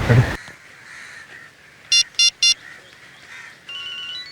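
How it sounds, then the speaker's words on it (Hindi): Three short bright electronic beeps in quick succession, like a phone ringtone, with a burst of noise at the start and quiet background around them. "रिंग जा रही है"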